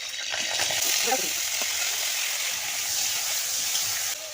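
Pointed gourd coated with salt and turmeric fries in oil in a wok with a loud, continuous sizzling hiss and a few soft stirring clatters, while a faint voice is heard in the background.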